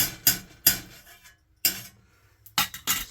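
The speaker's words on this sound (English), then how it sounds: "I'm just going to try and get this extra ghee off of the spoon" A spoon rapped against the rim of a pot to shake off extra ghee while making channa masala, five or six sharp close metallic taps in uneven clusters with short silences between.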